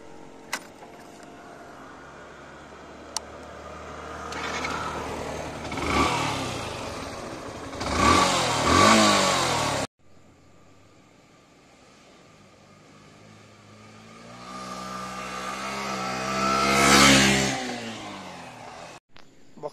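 A Yamaha FZ-S V3 motorcycle on a test ride, its engine climbing in pitch through two strong accelerations, each easing off again, with steady riding hum between and no talk.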